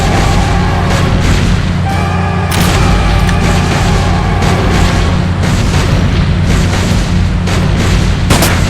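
Dense, continuous gunfire and booming explosions in the Sam & Max video game, loud and relentless throughout, with a few sharper bursts standing out.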